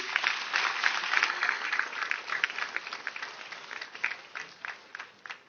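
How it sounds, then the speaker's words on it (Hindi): An audience at a network marketing business seminar claps steadily for several seconds, the applause thinning out into scattered individual claps toward the end. "हम चाहेंगे कि हमारे सारे गेस्ट के लिए एक जोरदार ताली बजनी चाहिए"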